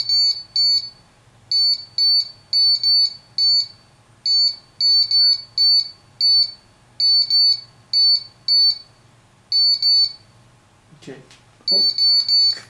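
A ghost-hunting detector device at a hotel sounds repeated bursts of rapid high beeping, irregular groups with short gaps, loud and close, with a brief rustle near the end.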